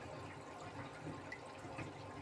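Water slowly drains away from a Suzuki's coolant or water reservoir, a faint, low gurgle and trickle with soft drips, quiet and steady throughout with no voices.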